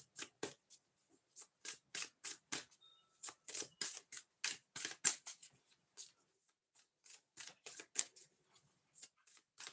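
A deck of cards being shuffled up close in quiet surroundings, a run of quick crisp riffling bursts in uneven rhythm, each a short papery flutter, with brief pauses between them.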